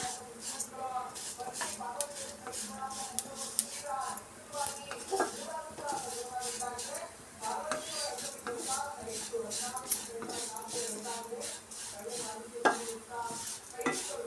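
Vermicelli is dry-roasted in a pan over a medium flame for hesaru bele payasa, with repeated scraping and stirring strokes and a light crackle, heard close up beneath someone speaking continuously.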